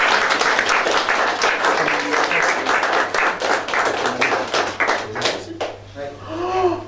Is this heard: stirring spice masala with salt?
no